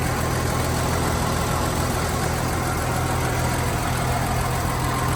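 A steady, rumbling engine of a 1965 GMC C10 pickup truck idles continuously up close, a low even drone with no voices.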